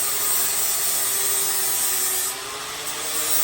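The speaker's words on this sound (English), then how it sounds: "Day 2 of cleaning the welds." Continuous loud, hissing abrasive grinding on the frame welds of a Yamaha XS650 chopper, a steady close-up rasp that dips briefly near the end before resuming.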